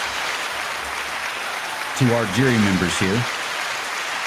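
A studio audience applauds volunteer grand jury members at the close of a show. Continuous, dense clapping runs throughout, and someone briefly speaks over it midway.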